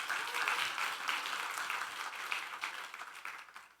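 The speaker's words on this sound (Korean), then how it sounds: "박수 좀 보내주세요." Congregation in a church applauding together during a Sunday service, a dense, steady wash of many hands clapping for a few seconds before tapering off slightly at the end.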